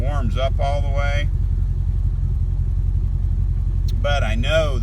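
A GM LS V8 engine idles steadily at about 650 rpm after warming up, a continuous low rumbling throb running through the whole stretch, with a person talking over it at the start and end.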